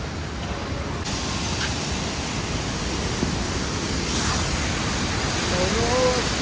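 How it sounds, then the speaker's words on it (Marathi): A waterfall on a cold mountain route, about 6 degrees, roaring as a dense, even wash of rushing water that stays loud and constant from start to finish. "धबधबे वॉटरफॉल"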